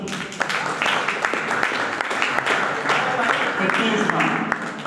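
Audience applause at a college debate and discussion event in Rewa, a steady dense patter of many hands clapping throughout, with a voice talking over it.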